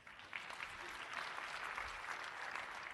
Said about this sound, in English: I'm glad that got smaller applause.